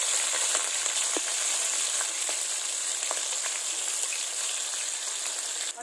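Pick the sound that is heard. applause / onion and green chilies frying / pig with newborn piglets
onion and green chilies frying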